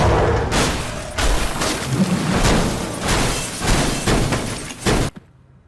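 Gunfire in Battlefield Hardline, a series of loud, close bursts and booms repeating in an uneven rhythm, ending abruptly into near silence.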